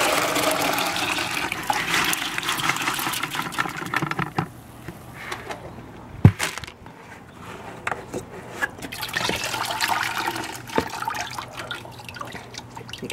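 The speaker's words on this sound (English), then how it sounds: "I'm going to rinse this out." Running water rinses a barley fodder growing tray, a steady splashing and trickling stream with drips, louder at the start and end and quieter in the middle, with a few sharp knocks of the tray.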